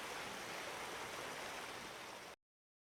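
A waterfall in the video game Metal Gear Solid Delta: Snake Eater, heard as a steady, dense rush of falling water that fills the scene and then cuts off abruptly to silence.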